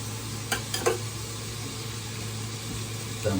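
Food sautés in a pan with ginger: a faint, even sizzle runs throughout, with a few light utensil clicks early on and a low steady hum underneath.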